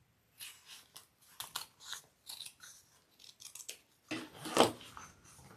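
Scissors trim the end of a zipper for a crossbody bag: a run of close, crisp snips in an irregular rhythm, with one louder, longer cut near the end.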